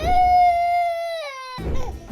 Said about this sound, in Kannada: ನಿಮ್ ಮಗು ಅಳ್ತಿದ್ಯಾ